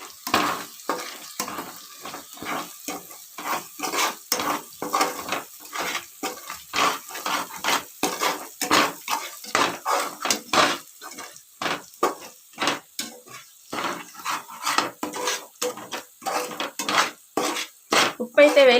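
A spoon repeatedly scrapes and stirs mutton curry in a pan, close and steady, with rhythmic knocks against the metal and a light sizzle throughout.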